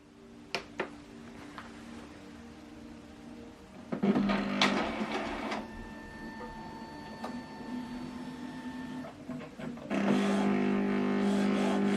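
An Epson XP-2200 wireless printer runs with a few sharp clicks, then a steady mechanical whir and hum carrying tonal whines, pausing briefly before resuming louder near the end, heard close with no talk.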